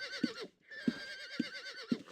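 A horse in the game Ultima Online lets out a warbling neigh with steady harmonic whinnying, broken by a brief gap, and punctuated by four regular low thumps that sound like hoofbeats.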